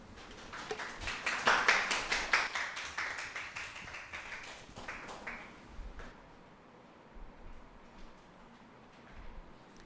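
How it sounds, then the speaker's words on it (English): Audience applause for two competing debate teams, from the Jamaica National Heritage Trust and the Accountant General's Department, swells into a burst of many overlapping claps, then thins out after about six seconds into a quieter room with a few stray taps. "Give them another round of applause."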